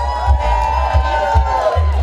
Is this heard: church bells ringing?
no